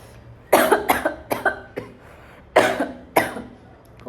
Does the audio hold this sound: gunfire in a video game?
no